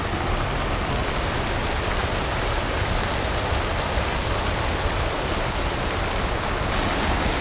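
Loud, steady rushing of water, a dense broadband roar that holds constant throughout with no voices.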